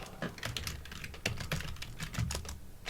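Rapid typing on a computer keyboard, a dense irregular clatter of close key clicks running continuously, moderately quiet, with no talk over it.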